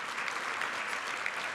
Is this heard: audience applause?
yes